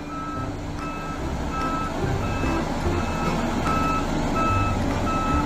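A toy truck gives off a steady run of evenly spaced electronic reversing beeps, loud and close, over a constant mechanical whir.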